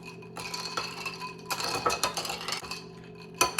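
A spoon clinks and scrapes inside a glass while iced coffee is stirred with added hazelnut syrup flavoring, making quick, irregular metallic taps and rubs. The sound is close and runs alone for a few seconds.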